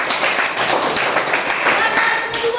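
Group hand clapping from a crowd at a religious lesson, a dense run of quick overlapping claps that continues steadily and close.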